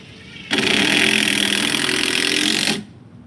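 A power drill drives a screw into a pilot hole in a wooden garden raised bed, one loud sustained whirring run of about two seconds that starts and stops abruptly.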